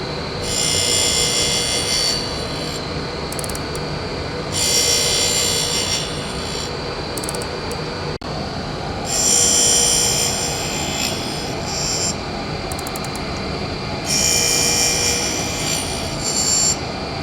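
A grinding wheel shaping a square onto the shank of a hand-made left-hand tap in a workshop, a steady hiss of grinding that swells in several long passes over a constant motor hum.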